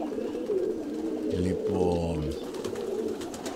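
Kozani pigeons give a short, low cooing call outdoors over steady background noise, and someone speaks briefly.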